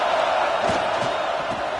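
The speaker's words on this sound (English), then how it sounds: "The roar of the crowd trying to fuel this defense to keep them pinned in their own end." A dense stadium crowd roars steadily in College Football 26 at a football game, a loud continuous wash of voices with a few faint thumps underneath.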